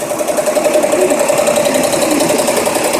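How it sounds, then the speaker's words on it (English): An embroidery sewing machine stitches a logo at 650 stitches a minute, giving a steady, fast mechanical whir with a constant tone, close and loud, running alone throughout. "And you can see how it's moving along on the machine. Running at 650 stitches a minute."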